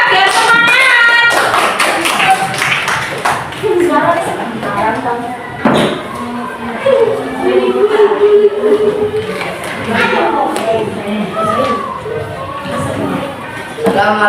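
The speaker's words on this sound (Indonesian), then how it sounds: "beri tepuk tangan dulu ya, biar semangat." A classroom group gets a short burst of scattered clapping as it comes forward to present, followed by shuffling, thumps and people talking in the room.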